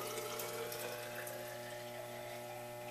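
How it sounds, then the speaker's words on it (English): Polluted water poured from a cup into the top of a transparent filter tube, giving a steady, even liquid rush and trickle that holds at a constant level throughout, with no voices. "get another cup of the polluted water, pour it into the top of the tube"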